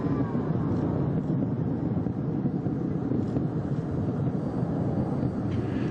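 Space Shuttle Atlantis climbing at throttle up after launch from Kennedy Space Center: a dense, steady low rumbling roar fills the whole stretch, continuous and broad with no pauses or voices.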